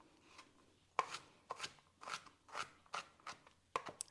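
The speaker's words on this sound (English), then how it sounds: "You can chop this as finely as you want." A knife chopping a purple onion on a cutting board, six or so crisp separate chops at an uneven pace, close and quiet with nothing else heard.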